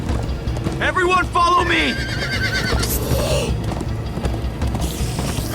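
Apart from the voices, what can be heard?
horses galloping in the video game Minecraft: Story Mode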